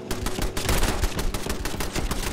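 Automated turret fire in Fallout 76, a dense rapid burst of repeated gunshots that continues steadily throughout, loud and close with no talking.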